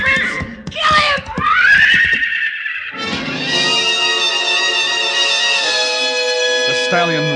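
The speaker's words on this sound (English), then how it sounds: "The stallion reared high, pawed at the gathering darkness." A stallion rearing in a radio drama lets out loud, drawn-out shrill neighs and whinnies, one sharp cry followed by a long sustained squeal, with shouting voices around it.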